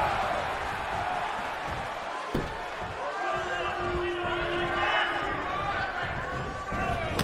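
Game wrestling arena crowd in WWE 2K19 during a Ring of Honor match, a steady roar of cheering and murmur filling the whole stretch, with a sharp impact thud partway through.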